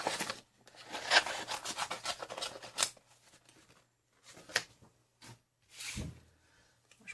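Black card stock being cut by hand for a men's birthday card, a series of close, dry rasping snips and rubbing strokes in uneven bursts separated by short pauses, with no talking.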